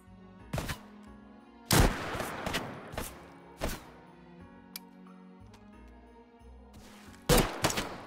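Shots from a survival rifle in the VR game Hot Dogs, Horseshoes & Hand Grenades crack out one at a time, with about six sharp, loud reports at irregular intervals and faint mechanical clicks between them.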